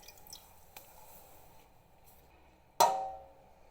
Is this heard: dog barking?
no